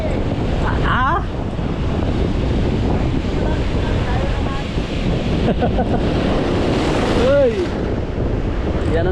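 Large rogue ocean waves crash and roll at a fishing spot, a loud continuous surf roar with heavy wind buffeting the microphone, while a voice exclaims briefly and a whistle-like tone rises over it.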